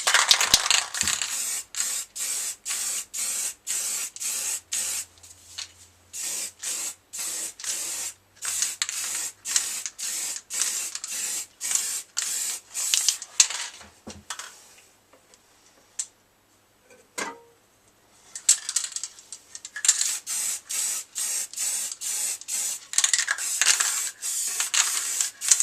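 Spray gun laying down a final coat of paint in a garage, bursts of hissing spray in rapid repeated passes with short gaps, close and steady.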